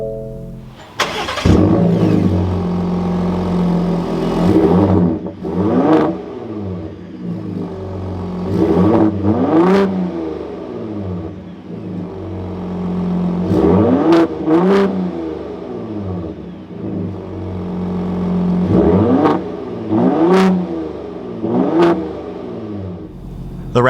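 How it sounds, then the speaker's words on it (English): A 2021-2023 Ford F-150 Raptor pickup engine cranks and fires up loudly, then settles into idle broken by several sharp revs that rise and fall in a repeating pattern, heard close with no talking. "keeping my foot on the brake, we can go ahead and fire it up"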